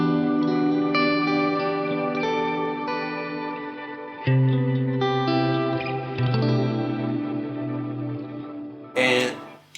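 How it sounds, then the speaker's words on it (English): Cornerstone NUCLEO effects preset on a sustained tone: short reverb with a heavy sub-octave layered beneath, thick chorused harmonics held for several seconds, then a brief bright burst near the end. "So it's a pretty short reverb with a lot of a sub-octave."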